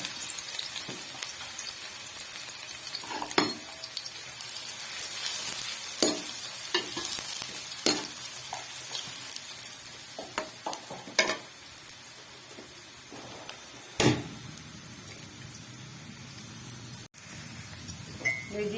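Oil sizzles steadily in a pan as sliced onions fry, with occasional clinks and scraping stirs of a utensil close by.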